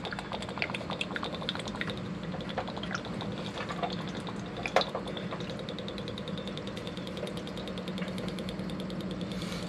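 Diesel fuel drains from the fuel filter housing of a 2015 RAM with a 6.7L Cummins, a steady trickling, bubbling pour with scattered drips, fairly close and unbroken.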